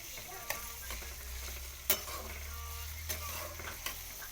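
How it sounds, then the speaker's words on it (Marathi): Onions frying in a pan hiss with a steady sizzle while a spoon stirs through them, giving a few light knocks and scrapes against the metal, close and moderately quiet with no talking. "जरा मधून अजून असं हलवायचा."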